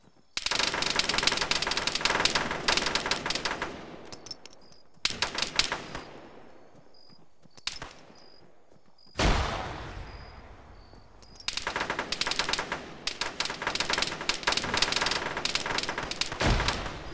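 Sustained automatic gunfire from an Arma 3 firefight, dense and loud in several long bursts separated by brief pauses, with a few quieter gaps in between.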